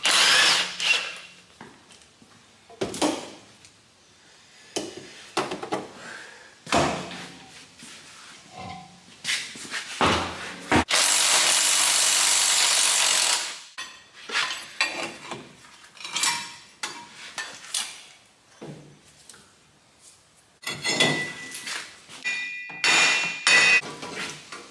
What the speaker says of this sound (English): Go ahead and get this wheel off.